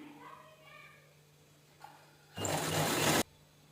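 A sewing machine runs in one loud, steady burst of under a second while stitching a blouse neckline binding, after a few quiet moments with faint voice-like sounds.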